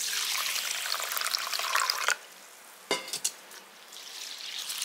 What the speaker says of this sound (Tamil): இப்போ இதில் தண்ணி ஊற்றி நல்லா கழுவிக்கலாம்.